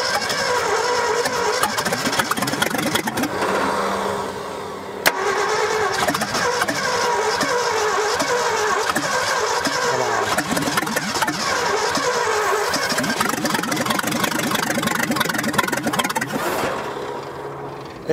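A 1965 Ford F100 engine cranks with a rapid starter chug, catches briefly and sputters, then cranks and rumbles unevenly again, close and loud throughout.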